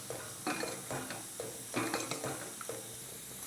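A spoon stirs sambar in a metal pot just after tamarind water goes in, making about six close scraping strokes against the pot with a faint wet slosh and no talk.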